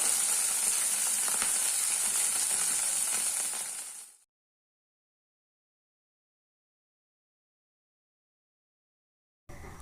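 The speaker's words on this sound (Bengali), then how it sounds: "এবার ওই তেলেই আলুগুলোও হালকা লাল করে ভেজে নিচ্ছি।" Potatoes frying in hot oil in a pan after cauliflower was fried in it, a steady close hissing sizzle for about four seconds that fades into silence, then returns briefly at the very end.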